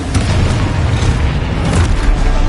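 A spell explosion in Hogwarts Legacy, the 2023 PS5 game, gives a loud, dense boom with rumbling bursts, filling the whole moment without any voice.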